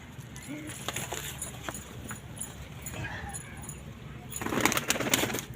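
Pigeons coo softly in a loft alongside scattered wing flutters and rustling, with a louder burst of flapping near the end; background voices murmur faintly.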